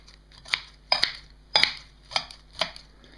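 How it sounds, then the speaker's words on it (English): Scissors snip through dried seaweed in five sharp, evenly spaced cuts, close and crisp with short pauses between each chop, no voices. "You might find scissors is a good way to chop these bits up as well"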